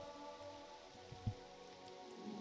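Steady rain falls over the town of Balmora in the video game Morrowind, a continuous soft patter and hiss at even level with no voices.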